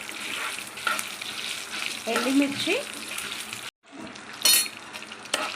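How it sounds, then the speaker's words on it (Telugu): Peeled garlic fries in oil in a pan, a continuous close sizzle with a few stirring knocks. It cuts off briefly, then a louder crackling burst follows. "దీంట్లోనే పొట్టు తీసిన వెల్లిపాయ 1 వేసి ఫ్రై చేసుకోవాలి."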